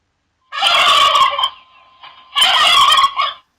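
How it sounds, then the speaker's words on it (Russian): A turkey gobbles twice, two loud close bursts of rapid warbling separated by a short pause. "Индюк."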